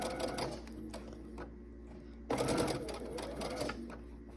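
A sewing machine stitching quilt fabric, quietly running in short bursts with a louder stretch midway, close but soft, with no talking.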